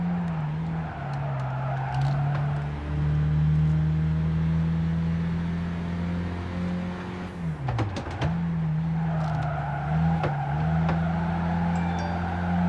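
An old Volkswagen Golf races in Gran Turismo 5's Clubman Cup, its engine droning steadily at high revs, dipping sharply around a gear change or braking point midway before climbing again, loud and continuous without talk.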